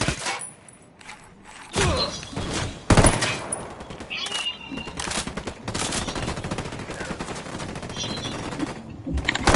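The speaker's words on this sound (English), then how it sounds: "I'm opening fire." Gunfire in Ghost Recon Wildlands: repeated loud bursts and rapid automatic shots in clusters, close and punchy, with a few heavier thuds between volleys and game sounds underneath.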